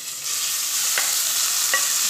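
Oil sizzling in a cooking pot at the start of a tomato sauce, a steady close hiss and crackle with a couple of brief scraping stirs, no voices.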